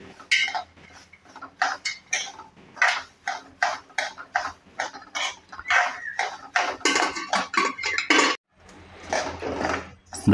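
A spoon repeatedly scrapes and stirs rice roasting in a dry pan for rice upma, giving bursts of gritty scraping in quick succession with brief pauses between strokes.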